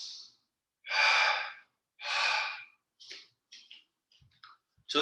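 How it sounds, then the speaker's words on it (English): Two long, strong exhales through the nose or mouth in a power yoga class, close to the mic, followed by softer short breaths and faint clicks. "take that big inhale, and then it's a double exhale"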